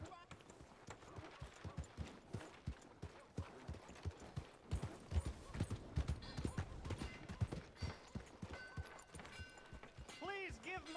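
Horse hooves clip-clop in a steady, rhythmic trot in the Red Dead Redemption 2 video game, with a brief voice and other game sounds near the end.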